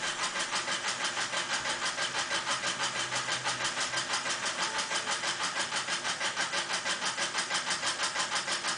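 Kleinschmidt AN/FGC-25 paper tape reader running tape trailer through, a steady fast mechanical chatter with an even pulsing rhythm, loud and close with no talk.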